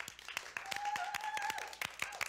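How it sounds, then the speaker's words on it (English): A small audience claps for a performer at a comedy-style show, scattered separate handclaps ringing out over a sustained tone and background chatter, fairly close and uneven rather than a full roar. "Ladies and gentlemen, round of applause."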